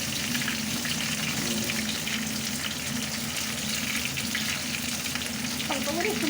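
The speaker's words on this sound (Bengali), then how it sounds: "আলুটাকে ভালো করে ভাজতে হবে" Potatoes fry in a pan for malai alur dum, giving a dense, continuous sizzle and crackle up close, with faint watery bubbling and no voices.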